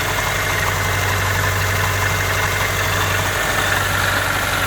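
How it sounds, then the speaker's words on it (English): A Subaru car engine idles steadily at close range, a continuous low rumble with a faint vibrating buzz and no voices. "These engines sound kind of strange anyway"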